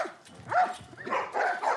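A dog barking in the video game The Last of Us Part I, a few short yelping barks and whines in quick succession, close and moderately loud.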